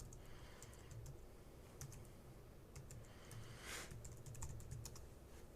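Someone types an administrator password and username on a computer keyboard, a run of quiet, irregular key clicks against a soft steady room hiss, close and alone.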